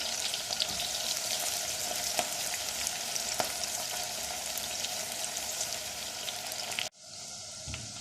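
Onions sautéing in a pot for beef haleem, a constant soft frying sizzle that cuts out abruptly near the end.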